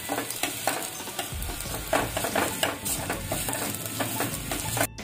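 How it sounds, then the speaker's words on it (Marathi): Chopped onion and ginger-garlic paste sizzle in a hot pan while a spoon scrapes and stirs in repeated close strokes, steady frying crackle throughout with no voices. "चांगली ती कांद्याबरोबर परतून घ्यायची आलं लसूण पेस्ट"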